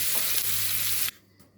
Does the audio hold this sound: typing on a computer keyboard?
no